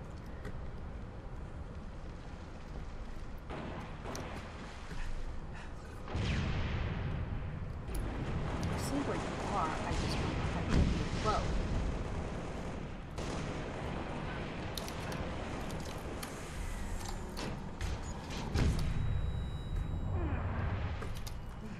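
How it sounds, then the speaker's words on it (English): Rapid gunfire and explosions rattle through a Halo Reach match, a dense, continuous barrage with louder bursts and blasts building and falling over the stretch, with no clear voices over it. "I'm basically having to unload my guns into them"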